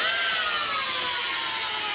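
A Parkside PBH 800 A1 rotary hammer runs under load during a torque test, giving a loud, steady motor whine with a slowly falling pitch as it strains, continuous and close with no talking.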